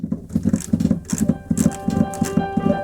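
Rhythmic staccato chords played on the piano layer of a Korg SV2 stage piano, repeated in a steady bouncing pattern, fairly loud and close with no talking over them.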